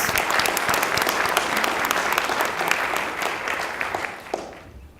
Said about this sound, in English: So let's give a round of applause to all our sponsors.